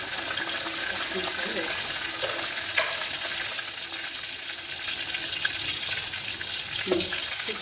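Onions frying in hot tempering oil with mustard seeds, cumin and dried red chillies for a garden-leaf stew; continuous close sizzle with faint clinks, and a voice talking quietly over it.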